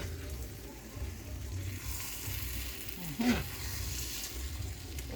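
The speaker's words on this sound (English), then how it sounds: "We're frying up now, as you can see." Green mango sizzles steadily in hot mustard oil, a soft, even crackle close by, with a brief clatter partway through.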